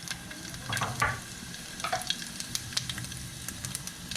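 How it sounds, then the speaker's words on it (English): Fennel seeds frying in about four tablespoons of hot oil in a wok, a steady close crackling sizzle with a few sharper pops and stirring scrapes, no talking. "place your wok and add in about 4 tablespoons of oil. Add in the fennel seed"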